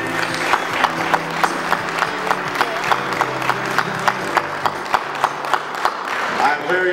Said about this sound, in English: Let's give a warm round of applause to all the participants who are graduating here tonight